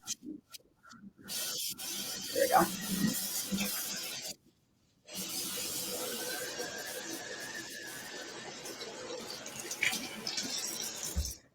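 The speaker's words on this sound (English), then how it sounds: "Some hot water going." Hot water runs from a tap as a steady, fairly loud hissing spray, breaking briefly partway through before resuming and continuing to the end, with a short spoken remark near the start.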